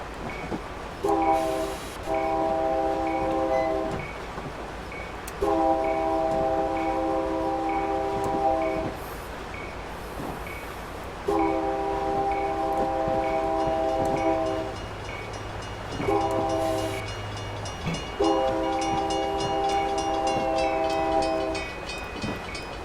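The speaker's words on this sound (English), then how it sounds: "I just sort of randomly blew the horn." Train horn on a cab car in Train Simulator 2015 on the Chicago to Aurora line, sounding five long and short blasts of a loud multi-tone chord, separated by pauses with engine rumble and track noise.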